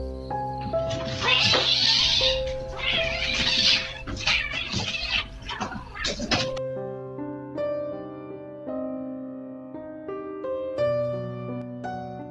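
A cat attacks an intruding creature indoors, giving loud, harsh caterwauls and strained meows in rapid bursts for about six seconds, followed by sustained music-like tones.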